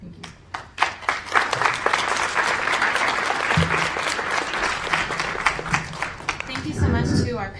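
An audience at an education summit gives a panel of three speakers a round of applause, a dense, loud burst of clapping lasting several seconds, with a voice heard briefly near the end.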